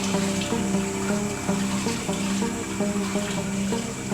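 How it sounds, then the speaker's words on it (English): Water running steadily from a tap over a fugu pufferfish as it is rinsed, a continuous moderately loud splashing stream with faint rhythmic clinks behind it. "At least 30 minutes is spent rinsing it, which takes about 60 litres of water."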